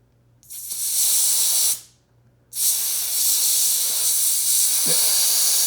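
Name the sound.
air hissing out of a Triumph Scrambler 400 X motorcycle tire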